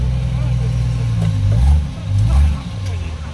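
A car engine revs on a rocky off-road trail, a low drone that swells in two surges toward the end, with people talking over it.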